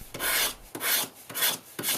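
Metal body of a Nokia 6 smartphone being handled up close, producing four rhythmic scraping, rasping rubs with short gaps between them, alone and fairly quiet.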